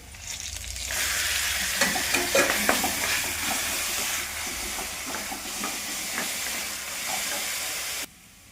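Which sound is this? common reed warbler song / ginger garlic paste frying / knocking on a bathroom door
ginger garlic paste frying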